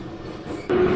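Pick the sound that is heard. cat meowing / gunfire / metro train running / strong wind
metro train running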